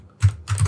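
Keys typing on a computer keyboard while entering code, two short bursts of clicks close to the microphone, quiet otherwise.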